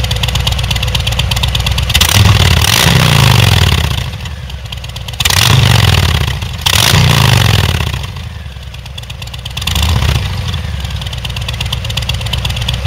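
A 2020 Harley-Davidson Fat Boy with an S&S exhaust idles with a loud, lumpy rumble and is blipped several times, each throttle stab swelling into a brief rev before settling back to idle.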